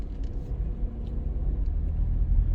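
A car driving on a road between Papine and Mona Heights in Kingston, with a low, steady engine and road rumble heard from inside the vehicle and no talking.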